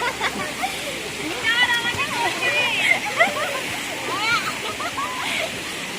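Water pours continuously down a resort waterfall stream in Tanay, Rizal, a dense rushing wash with occasional splashes, while voices sound faintly in the background.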